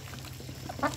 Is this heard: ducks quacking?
yes